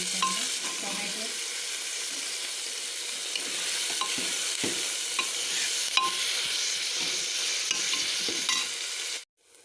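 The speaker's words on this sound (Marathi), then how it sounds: "कांदा परतून घ्यायचा तेलामध्ये चांगला" Onion and tomato frying in oil in a pan for pav bhaji, a steady close sizzle with occasional stirring scrapes and clicks, ending abruptly.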